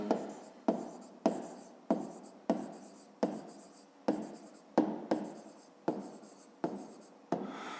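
A pen writing by hand on paper during a 5th-grade math exercise, about a dozen short scratchy strokes in a steady rhythm, close and quiet, with no talk.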